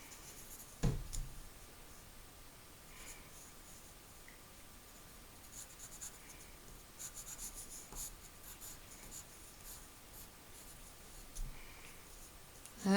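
Pencil writing and sketching on paper, soft intermittent scratching and rubbing strokes close to the microphone, quiet, with a couple of small knocks and no talk.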